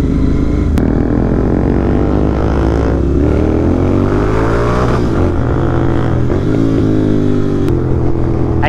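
Royal Enfield GT650 motorcycles fitted with loud aftermarket exhausts rumble and rev in a group ride, a continuous deep engine roar with rising and falling throttle pitch, close and loud throughout.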